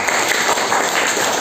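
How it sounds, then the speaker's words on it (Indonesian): A congregation applauds during a wedding service in a church, a loud, dense burst of clapping close to the microphone, brief and unbroken by speech. "Ya, kita beri tepuk tangan"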